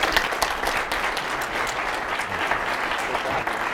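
Crowd applause for a guest called to the stage at an interview event, a dense, steady wash of many hands clapping filling the whole stretch at an even, fairly loud level.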